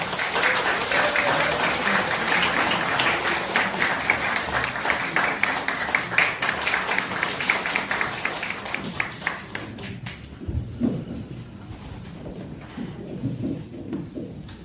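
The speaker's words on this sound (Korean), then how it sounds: "여러분 큰 박수 부탁드립니다." A crowd at a political rally launching an emergency committee against prosecutorial oppression applauds loudly and continuously, the clapping thinning out and fading after about ten seconds into quieter murmuring.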